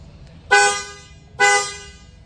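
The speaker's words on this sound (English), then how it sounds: "But the horn actually works." Two short, loud honks from a car horn on an Impala with an LS engine swap, freshly wired with twin horns, sounding close by with a brief gap between blasts.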